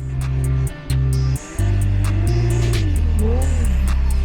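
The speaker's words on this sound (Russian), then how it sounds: "А зараз, поки ми насолоджуємось е, проїздами машин." Drift cars pass on a track, one after another, with a loud, continuous engine roar that shifts pitch as they rev and ease off, with brief dips between passes.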